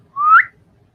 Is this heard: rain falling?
no